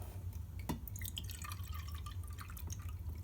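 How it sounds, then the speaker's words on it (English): Cold water poured into a calorimeter in a basic lab setup, heard as a close trickle of drips and small splashes over a steady low hum, with no talk. "I'm going to pour some of this cold water into the calorimeter"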